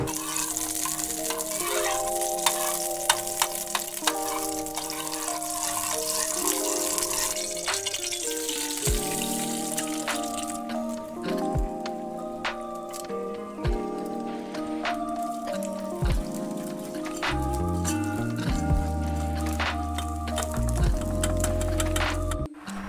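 Eggs fry in country ghee in a pan, hissing and sizzling steadily and loudly close up, with occasional spatters and faint music underneath and no voices.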